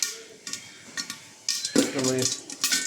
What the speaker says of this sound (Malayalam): ഇപ്പോൾ അതിൻ്റെ ഉള്ളിൽ പൊട്ടുന്ന സൗണ്ടൊക്കെ കേൾക്കുന്നത്.